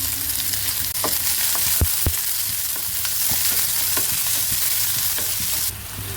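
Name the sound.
onion and green chillies frying in oil pan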